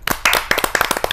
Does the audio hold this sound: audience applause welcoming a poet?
yes